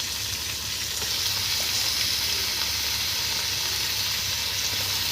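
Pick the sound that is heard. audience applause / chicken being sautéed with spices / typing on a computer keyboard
chicken being sautéed with spices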